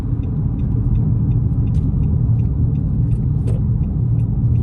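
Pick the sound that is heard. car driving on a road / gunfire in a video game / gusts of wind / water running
car driving on a road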